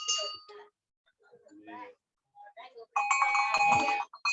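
A bell on a horse cart, pressed by the foot, rings loud and bright near the end after scattered soft chatter and handling noises on a Jakarta street.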